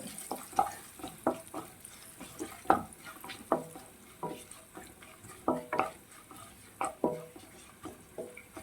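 Beef pieces roasting with salt in a pan crackle softly while a utensil scrapes and stirs them in irregular, clattering strokes, close and moderately quiet.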